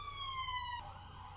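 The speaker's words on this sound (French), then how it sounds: "il y a une ambulance qui passe" A passing ambulance siren, a faint, distant wailing tone that drops in pitch partway through, heard over low background traffic rumble with no talking.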